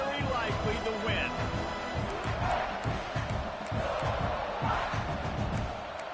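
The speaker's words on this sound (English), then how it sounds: "This crowd even louder now on 2nd down as they try to hold on" A roaring stadium crowd in a South Carolina versus Oklahoma college football video game swells loudly and continuously, with a commentator's voice speaking over the din.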